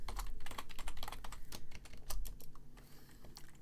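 A reply is typed on a computer keyboard during a tarot livestream, quick close clicking keystrokes in an uneven rhythm, continuing without pause or voices.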